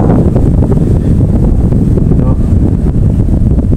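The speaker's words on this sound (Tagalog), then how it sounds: "malakas po ang hangin talaga" Strong monsoon wind on a fishing outing buffets the microphone with a constant loud, low roar throughout, and no other sounds stand out.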